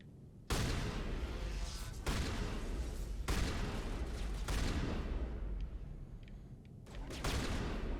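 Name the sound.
pistol gunfire in the video game Mass Effect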